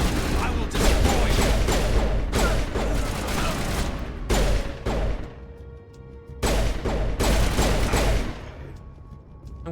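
Rapid gunfire bursts in the video game Mass Effect Legendary Edition, loud and close, coming in several dense volleys separated by brief quieter gaps, with speech-like sounds mixed in.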